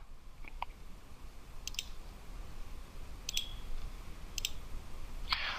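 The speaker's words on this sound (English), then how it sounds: "let's check all these three here and click on compare" Computer mouse clicks: four short, crisp clicks spaced roughly a second apart, close and clear over a quiet room hiss, with no talking.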